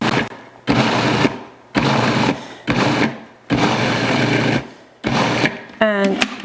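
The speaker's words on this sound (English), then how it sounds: "Let the machine run till everything gets totally mixed and nice." A kitchen mixing machine beats thick batter in several loud bursts of whirring motor, each a second or so long with short pauses between, ending with a brief rising whine.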